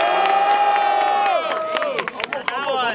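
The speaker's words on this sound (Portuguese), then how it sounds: "Quem gostou das rimas do Popó faz muito barulho" Loud crowd at a rap battle cheering, shouting and clapping continuously, with a host's voice calling out over the noise throughout.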